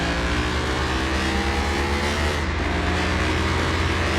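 A Nissan 370Z engine in Car Mechanic Simulator 2021 revs hard on a drag run, a loud, continuous droning roar with steady harmonics and a brief dip near the middle as if shifting.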